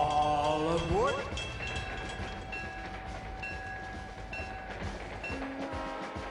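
The John Deere Zephyr train pulls away from the Lincoln Square Station with a steady rolling rumble and faint wheel clatter, a few short high tones ringing out over the moderate, continuous noise.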